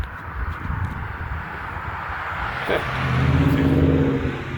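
A car drives past on a road by Turkey Hill near Chauncey Walker Road, its engine loud and close, the steady road roar swelling as it nears and passes, with no voices.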